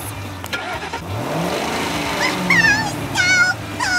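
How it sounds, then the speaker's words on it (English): Toy cars start up on a cardboard race track with a close, loud revving engine-like whir that rises in pitch, joined near the end by squeaky high wavering tones. "Great, so let's start our cars."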